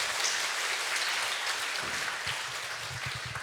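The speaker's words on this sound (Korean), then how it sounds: "다시 한번 하나님께 영광의 박수를 드리겠습니다." A church congregation claps in a steady wash of applause from a large crowd, moderately loud and continuous, with no talking over it.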